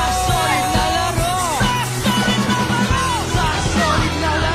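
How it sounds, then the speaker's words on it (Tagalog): Spectators at an outdoor basketball court in San Fermin yell and shout continuously over a game, with overlapping voices and scattered sharp cries filling the scene. "Sigaw ay walang hinto."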